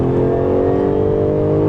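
Jaguar F-Type V6 S sports car engine driven hard, a loud, steady close-up drone with a constant engine note held throughout.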